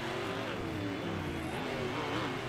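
Race trucks at speed on a dirt track with jumps, their engines a loud, continuous roar with shifting pitch, carrying steadily throughout with no voices.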